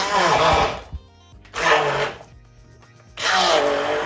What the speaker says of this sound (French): donc je vais écraser ça avec ce mixeur.